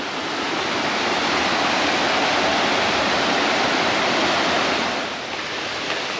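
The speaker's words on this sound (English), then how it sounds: "I guess I should have acknowledged the creek there. Can't help but hear that." A creek along the Twentymile Loop Trail in the Smokies rushes and flumes loudly nearby, a dense, steady roar of flowing water with no break and no talking.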